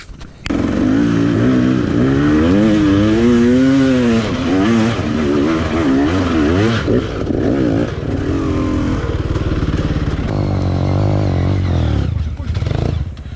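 A motorcycle engine roars loud and close on a dirt trail, revving up and down with wavering pitch and clattering, briefly dipping near the end.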